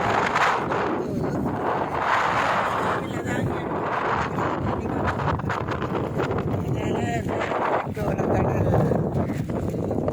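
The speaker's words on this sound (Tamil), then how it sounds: "இந்த கடல் காற்று சும்மா தள்ளி கொண்டு போகுது." Strong sea wind buffets the microphone in a steady roar, with a person talking over it throughout.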